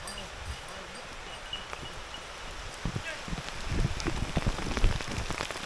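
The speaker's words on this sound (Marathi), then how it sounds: "आला आला पाऊस. पोचला आपल्यापर्यंत, पोचला पाऊस." Steady rain hisses over a broad wash of sound in open fields, growing louder as drops patter and splash more heavily toward the end as the rain arrives.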